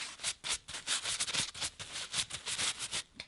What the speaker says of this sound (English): Wipe this down with some acetone.